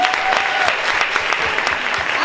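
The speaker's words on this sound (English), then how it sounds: "So give a round of applause to them." Audience applause at a friends' brunch event honored by the city, a dense burst of clapping from a room full of people, steady and close for a couple of seconds.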